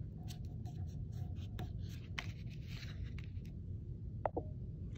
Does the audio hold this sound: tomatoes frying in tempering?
no